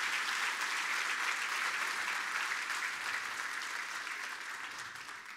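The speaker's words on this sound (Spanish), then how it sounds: "Agradecemos a Ricardo, por favor, con un fuerte aplauso" A crowd gives strong applause to a presenter at an event, steady dense clapping that starts loud and gradually tapers off toward the end, with no talk on top.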